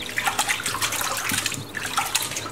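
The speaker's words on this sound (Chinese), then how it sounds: "鸭肉砍好后，把它清洗一下" Chopped duck meat rinsed under running water, a steady close splashing and trickling with no talk.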